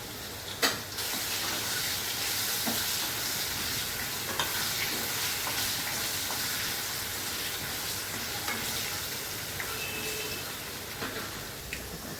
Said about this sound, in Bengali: আলুগুলো একটু ভাজা হবে